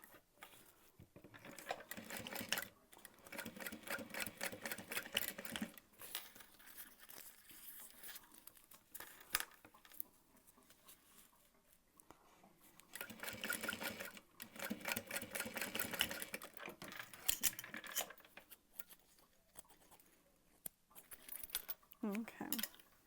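A sewing machine topstitches backpack fabric in quiet, intermittent bursts of rapid whirring, with pauses and soft handling noises between runs.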